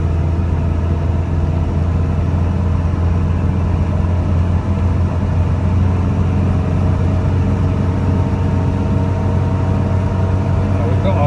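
A 1949 Ford Prefect E493A drives along with a steady, loud engine drone and low rumble that holds constant throughout, the old small car's hum heard up close from inside.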